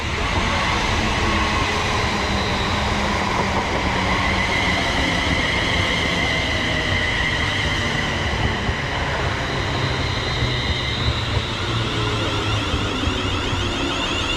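An East Midlands Railway Class 360 electric passenger train arrives, rumbling steadily and loudly throughout, with a low rolling drone and faint metallic hiss as it runs along the track close by.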